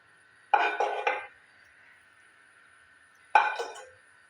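Sweet rice mixture tipped from a pan onto a steel plate, giving a few sharp metallic clinks and scrapes in two short bursts with a quiet pause between, close and fairly loud with no talk.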